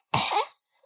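A sick girl gives a single sharp, close cough that trails off into a short breath, with nothing else around it.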